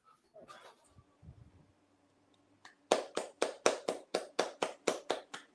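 One person clapping steadily for a poet at a virtual poetry slam, about a dozen evenly spaced, close claps following a few quiet bumps and a faint low hum.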